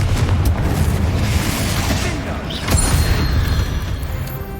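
A Confringo blasting spell in the Hogwarts Legacy video game, a loud booming explosion with a sharp crack near the middle, set in dense, rumbling combat noise with a brief voice.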